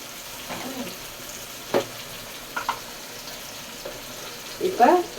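Small onions sautéing in a pan for dried fish thokku, a soft continuous sizzle with a few scattered stirring knocks and a brief clatter at the end, close and fairly quiet.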